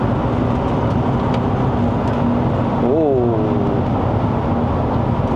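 A 2014 Proton Perdana 2.4P with a 5-speed automatic downshifting while driving, a steady engine and road drone inside the cabin with a brief rising rev blip partway through.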